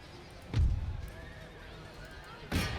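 Cavalry horses in an Empire: Total War battle, two short loud whinnies about two seconds apart over a low battlefield murmur.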